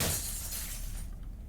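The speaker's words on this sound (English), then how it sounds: "Smashing the windows." Glass windows smashed in the zombie survival game Cataclysm: Dark Days Ahead, a loud crash of breaking glass that bursts at once and then fades into a rattling scatter of shards.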